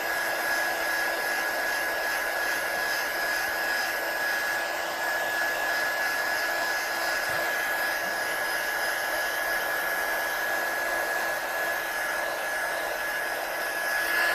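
Steady whooshing hot-air flow from a heat tool or hair dryer drying a card during heat embossing, running continuously and evenly at close range with a constant high whine and no speech.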